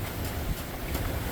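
Wind rushes steadily and loudly across the microphone aboard a sailboat flying along on a close reach, a broad gusty roar with no voices.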